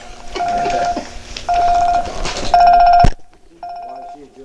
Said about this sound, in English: Your purse is ringing.